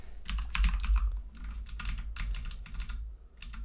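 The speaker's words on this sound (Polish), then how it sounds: "Piszę jedną ręką." Someone types on a computer keyboard with one hand, producing steady bursts of close keystrokes in short irregular runs with brief pauses, with no talking.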